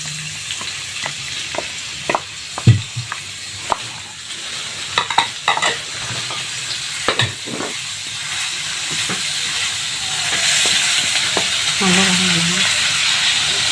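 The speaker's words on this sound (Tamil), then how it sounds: "பூண்டை போட்டு வதக்குறோம்" Garlic sautéing in melted butter in a pan, a continuous close sizzle punctuated by sharp scrapes and taps of a spoon stirring, rising into a louder hiss of steam toward the end.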